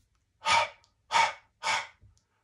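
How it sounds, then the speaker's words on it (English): Three deep, even breaths in a row during a guided breathing exercise, each a soft airy rush lasting about a third of a second, close and clear against silence. "inhale 3 times. Exhale 3 times."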